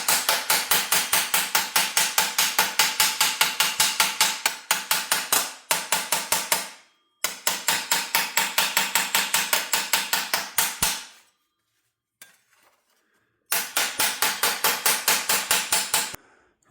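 A hammer strikes sheet metal to smooth out forming marks on a Holden HQ GTS Coupe cowl panel repair, with rapid, even blows in long bursts broken by short pauses, loud and close with no talking.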